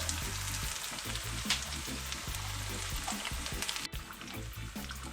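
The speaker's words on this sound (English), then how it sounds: "And I'm gonna fry them on both sides under low heat, and let them fry and golden brown on both sides." Saltfish and vegetable fritters frying over low heat in a pan, giving a soft, steady crackling sizzle with faint irregular pops, fairly quiet and without talk.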